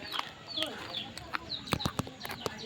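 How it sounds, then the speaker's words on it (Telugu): Hens and chickens clucking outdoors on a rural Telugu farm plot, several short clucks and calls spread over a few seconds with ambient noise and faint voices. "కోడి పెట్ట పైకి ఎక్కింది."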